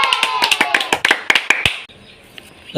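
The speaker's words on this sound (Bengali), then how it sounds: "হাততালি হাততালি হাততালি" A small group claps rapidly at a prize-giving during a spoon ball challenge game, a dense burst of sharp close claps for almost two seconds before fading into quiet room noise.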